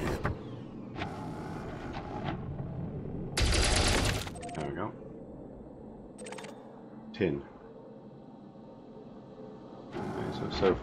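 Ship weapons firing in the Elite Dangerous space game, short sharp bursts of shots, one louder sustained volley in the middle, spaced apart over a low background hum.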